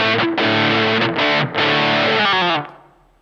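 Electric guitar played through a Tube Screamer pedal into distortion, a few loud, thick distorted chords with brief gaps between strikes, the last one ringing out and fading.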